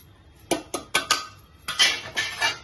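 A spoon scrapes and clanks inside a pot as biryani masala is mixed into Dindigul-style mutton biryani: a handful of sharp metallic knocks, then longer scraping strokes, close and without talk.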